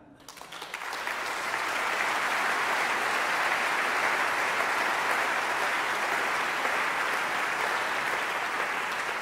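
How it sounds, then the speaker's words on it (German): An audience at a live charity concert of opera singers supporting Ukraine breaks into applause that swells within the first second and then holds as a broad, loud, continuous ovation. "Applaus"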